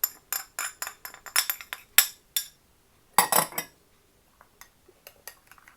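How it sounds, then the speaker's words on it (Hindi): A spoon clinks against a bowl while lemon juice, salt and black pepper are mixed into olive oil for a salad dressing, giving a quick series of close, sharp metallic taps, then a pause and a few scattered lighter clicks. "अब ऑलिव ऑयल में लेमन और नमक और काली मिर्च डाल के अच्छी तरह मिक्स कर लेंगे"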